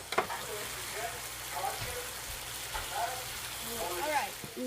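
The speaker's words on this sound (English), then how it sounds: "Now you want to saute it until it is soft." Red bell peppers seasoned with Tony Chachere's sauté in a pan with a continuous gentle sizzle and occasional stirring clatter, while a voice talks quietly over it.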